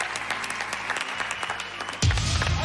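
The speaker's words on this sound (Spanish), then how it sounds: "Nos despedimos con este aplauso." A television singing-contest audience applauds, a short burst of clapping at moderate level that swells into a louder, fuller roar near the end.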